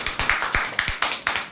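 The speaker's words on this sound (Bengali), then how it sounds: "তাই তার জন্য একবার জোরদার হাততালি।" Audience clapping in a rhythmic, evenly spaced pattern of sharp claps, roughly six per second, fairly close and clear.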